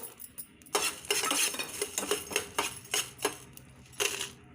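Dry whole spices (coriander seeds, cardamom, cinnamon and peppercorns) roasting in a pan for pav bhaji masala, heard as repeated rhythmic rattling scrapes as they are stirred, close and fairly loud over a low sizzle.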